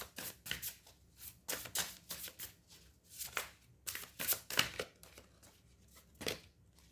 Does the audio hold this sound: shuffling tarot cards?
yes